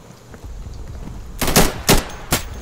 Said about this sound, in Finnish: Se on automode päällä tässä pyssyssä.